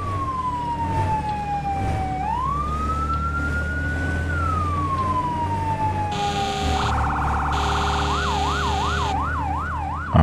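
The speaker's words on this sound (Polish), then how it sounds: "Podoba mi się ta syrena." A wailing fire engine siren in the Firefighting Simulator video game sweeps slowly up and down, then switches to a fast yelping warble over steady engine rumble, loud and continuous with no talking.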